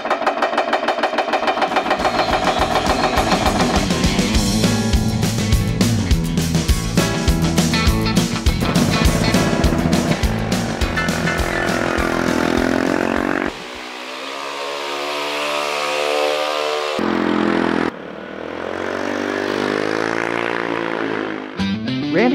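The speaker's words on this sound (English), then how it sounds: "Now we head over to the power hammer to give it the curve this way." A power hammer pounds a metal sheet into a single-plane curve, a loud, rapid mechanical hammering that runs continuously, then gives way to quieter, tonal machine sounds toward the end.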